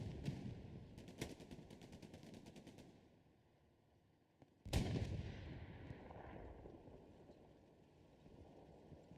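Rapid bursts of gunfire ring out in a competitive war video game match, followed by a loud rocket-like blast and a long rumbling tail that fades, with no voices over it.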